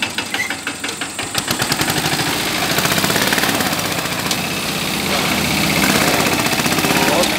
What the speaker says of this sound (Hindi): लोड नहीं मानता जी, बहुत मजबूत ट्रैक्टर है।